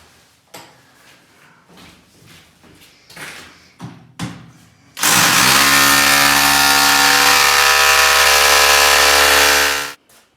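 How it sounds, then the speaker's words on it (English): Loud, continuous jackhammer roar breaking a concrete floor in a wet room starts abruptly partway through and runs steadily for several seconds, after a stretch of quieter knocks and handling noises. "Right, jackhammer, concrete."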